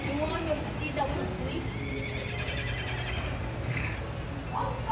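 A horse neighs and whinnies at a fun-filled attraction, with hoof clip-clops and people talking nearby throughout the short stretch.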